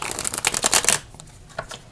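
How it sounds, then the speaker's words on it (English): A deck of tarot cards is riffled and shuffled up close, a rapid crisp flutter for about a second, followed by a couple of softer card taps. "So now we're going to use the tarot cards to just see if there's anything else that their higher self wants to say"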